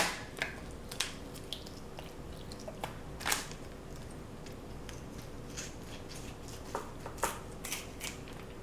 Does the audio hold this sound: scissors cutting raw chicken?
yes